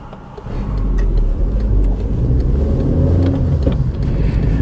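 A cheap, used Volkswagen Golf MK5 is driven, with a low, steady road and engine rumble inside the cabin and small ticking rattles scattered over it.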